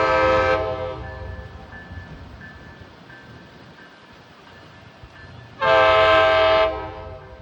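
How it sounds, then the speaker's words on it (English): Horn of an MBTA F40PH-3C diesel locomotive departing Needham Center, two loud close blasts, a short one at the start and a longer one near the end, over a quieter rumble of the moving train. "Loud horn."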